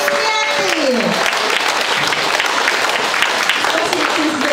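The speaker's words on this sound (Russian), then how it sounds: "Отлично, аплодисменты!" Steady, close applause from a hall audience at a company awards ceremony, dense clapping continuing at an even level throughout, with a faint voice at the start.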